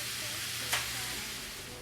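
Boneless meat frying in a skillet gives a steady, soft sizzle with one brief louder spatter near the middle, heard alone at moderate volume.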